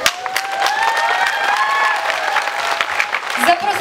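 Stormy audience applause at a festival awards ceremony, a dense continuous wash of many hands clapping close by with cheering and sung or called tones over it, steady throughout.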